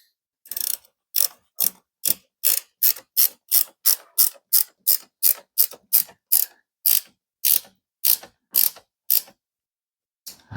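Ratchet wrench tightening 10 millimeter bolts on a Kubota door, a close, steady run of about twenty crisp ratcheting clicks in quick even strokes, with a short pause near the end and no talking.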